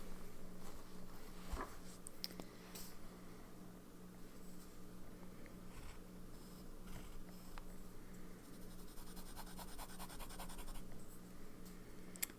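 An extra-fine Lamy Studio fountain pen in terracotta finish scratches faintly across paper in quiet, irregular strokes and small taps, heard close up in a hushed room without any talking.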